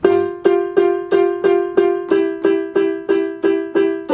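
Casio electronic keyboard on a waltz rhythm setting, sounding sustained chords in steady 3/4 pulses about every third of a second, loud and close, with no talking.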